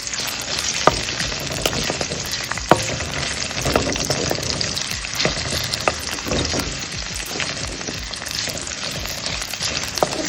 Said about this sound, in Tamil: இஞ்சி, பூண்டு, பச்சை மிளகாய் இதை போட்டு நல்லா வதக்குங்க.